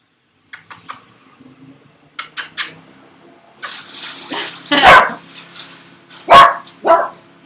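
A dog barks and growls nearby in short, irregular bursts, with louder sharp barks standing out in a quiet indoor room.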